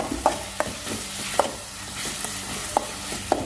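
Tomatoes and a ground spice paste frying in a pan for chicken sukka, giving a constant soft sizzle with a few sharp spoon scrapes and taps spaced irregularly, close and moderately loud.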